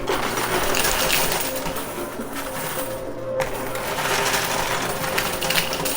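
Coins clattering and tumbling in a high-risk arcade coin pusher, a dense, loud, continuous metallic rattle with a brief drop-off midway before the jingling resumes; no talking.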